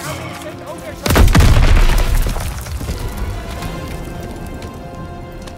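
A planted explosive charge detonates in the Call of Duty: WWII campaign battle for Hill 493, a sudden loud boom after a second of battle noise, followed by a long rumbling tail of falling debris.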